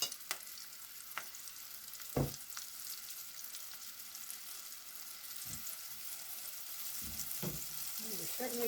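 A breaded blooming onion frying in hot grease, a continuous bubbling sizzle with occasional sharper crackles and clinks, close by and without speech.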